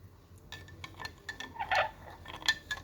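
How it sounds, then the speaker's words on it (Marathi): A spoon stirs sherbet with sugar in a glass, giving faint, irregular clinks and light taps against the glass over a soft background. "तर हे घ्यायचे, हलवून हलवून हलवून हलवून हलवून हलवून मग आपलं सरबत बनवून"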